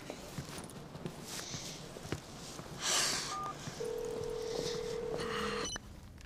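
Telephone number dialed on a phone at a bed and breakfast, a series of short beeping tones with faint footsteps and room noise around them, quiet and close.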